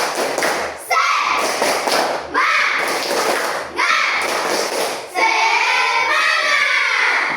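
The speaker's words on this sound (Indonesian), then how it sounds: "Pak, tepuk semangat." Elementary schoolchildren standing in class perform a spirit clap, loud rhythmic bursts of clapping and thumping in repeated phrases, with children's chanting voices mixed in between.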